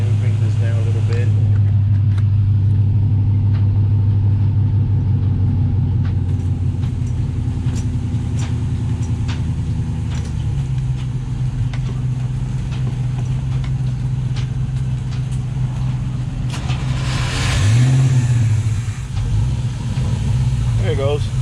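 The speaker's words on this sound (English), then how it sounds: "That engine sounds always different than the other one." The engine of a Luhrs 28 boat runs with a steady low mid-pitched drone, then revs up briefly and settles back, close and continuous throughout.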